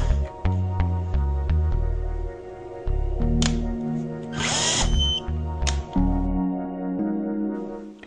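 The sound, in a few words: power tool driving screw into Norbar torque tester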